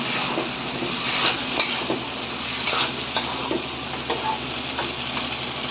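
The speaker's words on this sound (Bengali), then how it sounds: "তেলাপিয়া দিয়ে এবার ভালো করে মিক্স করে নিচ্ছে" Deboned tilapia pieces being stirred and mixed in a hot pan of oil, with a steady close sizzle and repeated soft scraping strokes of the spoon against the pan.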